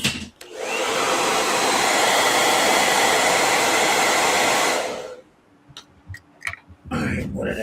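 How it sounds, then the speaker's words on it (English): A blow dryer roars steadily for about five seconds while drying fresh paint, then cuts off, leaving quiet handling noises and clicks afterward. "Hit this with a blow dryer."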